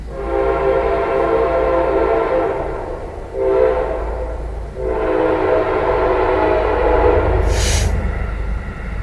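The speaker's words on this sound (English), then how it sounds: "Was that a train?" A train passes close by, a loud steady rumble and clatter of rail wagons lasting several seconds, with a brief dip midway and a short high hiss near the end.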